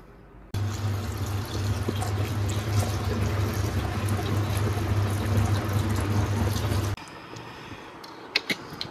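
Water poured into a bowl during Eid preparations, a steady rushing splash lasting about six seconds before cutting off abruptly, followed by a few small clinks and drips.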